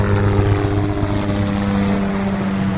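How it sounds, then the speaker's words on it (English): A cartoon helicopter flying: a loud, continuous rotor and engine drone with a steady pulsing chop, close and unbroken, with no voices over it. "Hop in my helicopter and we'll get there faster than you could say."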